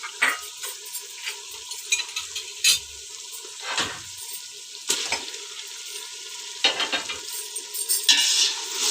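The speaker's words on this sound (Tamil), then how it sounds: "டமாட்டோ நல்லா வதங்கணும்." Tomatoes sautéing in a pan for chicken biryani, a steady close sizzle broken by repeated scraping stir strokes and occasional clatters, with no voices.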